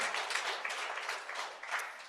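An audience at a talk on reviving collective power and reclaiming rights claps, a fairly quiet, dense patter of hands that swells briefly and fades.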